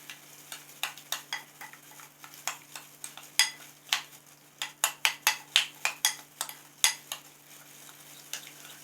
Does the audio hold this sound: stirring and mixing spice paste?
yes